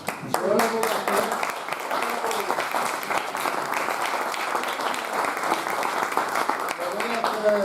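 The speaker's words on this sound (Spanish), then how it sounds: "después de este gran aplauso" Sustained, loud applause fills a hall after a bullfighter's talk on the dialogue between torero and bull, steady clapping from many hands with a voice briefly cutting through.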